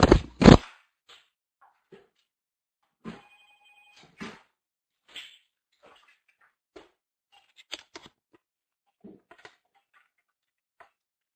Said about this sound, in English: I had a phone that I thought was off and it was going on